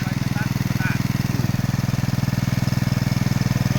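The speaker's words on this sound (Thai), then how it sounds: "เอาเครื่องสูบน้ำมาต่อใส่เครื่องคูโตานะครับ" Water pump coupled to a Kubota tractor engine out in a rice field, running with a steady, fast-pulsing low chug at close range, continuous and unchanging throughout.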